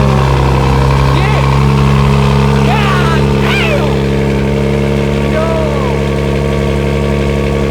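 A BMW 440i engine runs loud and steady with a deep, heavy rumble that fills the whole stretch, while people talk over the din now and then.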